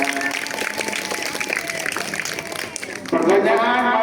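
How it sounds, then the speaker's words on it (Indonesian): An audience at a quiz competition at an Islamic girls' boarding school claps in a dense, steady burst of applause, with voices talking over it and a louder swell near the end. "Tepuk tanganlah untuk semuanya."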